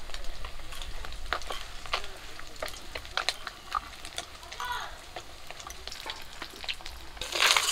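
Pabda fish fry in hot oil in a home kitchen. A steady soft sizzle runs throughout, broken by scattered sharp spatters and clinks of a utensil, and there is a brighter burst of frying near the end.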